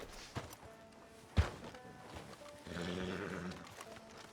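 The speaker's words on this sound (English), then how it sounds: "Can you grab Anders off your horse and carry him in for me?" A horse in the Red Dead Redemption 2 video game snorts and shifts with hoof thuds in an outdoor town street, with faint ambient game sound and movement.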